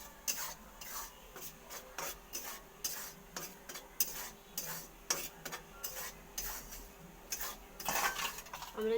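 Rice flour is dry-roasted in a wok over low heat, a spatula scraping and rubbing through the powder in quick, uneven strokes with faint gritty rasps and an occasional light clink, quiet and close, no talk.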